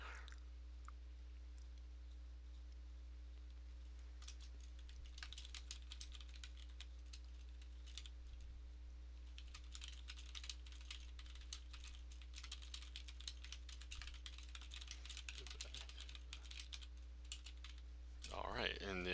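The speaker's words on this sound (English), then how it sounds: "we're just going typing here today." Steady keyboard typing clatters throughout during a session of the game Ark: Survival Evolved, with dense clicks over a constant low hum and a louder burst near the end.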